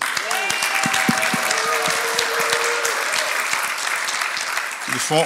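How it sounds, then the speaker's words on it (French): Loud, sustained applause from a church congregation, dense clapping throughout with a few voices and whistles mixed in near the start. "Est-ce qu'on peut applaudir les gars de la Sono?"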